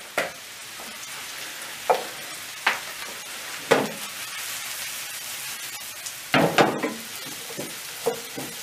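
Mushrooms and chicken sauté in vegetable oil in a pan, a continuous close sizzle punctuated by sharp clacks and scrapes of stirring at irregular intervals. No one speaks.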